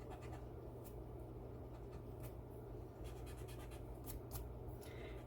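An eraser rubs out a pencil mark on a paper mixed media layout, giving quiet, faint scratchy strokes in short bursts over a steady background hiss.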